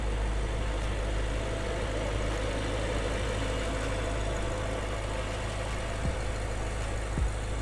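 A BMW F10 M5 with Project Gamma intakes idling, a steady low, even engine rumble held close throughout, with a couple of faint knocks near the end and no voices.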